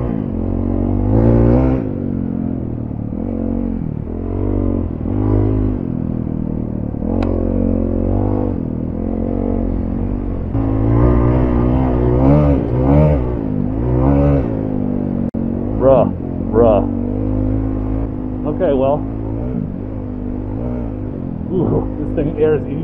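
A Honda CRF450RL off-road motorcycle engine revs and surges in repeated bursts while riding a trail, mixed with clatter and wind, close and fairly loud.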